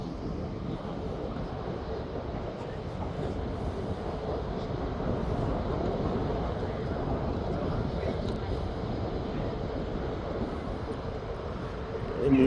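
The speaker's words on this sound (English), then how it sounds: "Now we've got the Dreamliner now just coming over Lyon." A Boeing 787 Dreamliner airliner approaches Birmingham Airport, its engines a steady, broad rumbling roar that holds level and swells slightly as it draws nearer.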